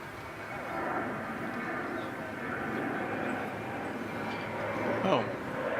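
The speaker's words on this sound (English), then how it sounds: "Oh, flight to Los Angeles has already taken off. That's what you hear in the background." An airliner takes off at DFW Airport, a broad steady roar of jet engine noise heard at a distance, holding level throughout under a busy outdoor background.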